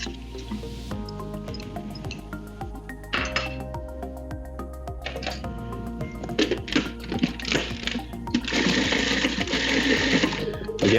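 A food processor chops green onions and vegetables in a kitchen in wet, squishy bursts, with clattering and rattling. The whirring grows louder and denser toward the end.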